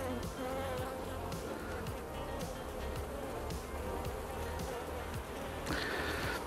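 A honeybee buzzes close by during hive inspection while a beekeeper handles a pollen-heavy frame, a steady insect drone over rustling and handling noise, with occasional sharp clicks.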